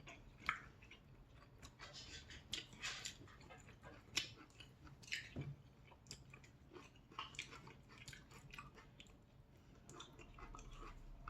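Someone chewing stir-fried beef intestines (gopchang) alongside cheese rice cakes, with close, steady wet chewing and soft squishy bites repeating throughout, plus occasional quiet murmurs.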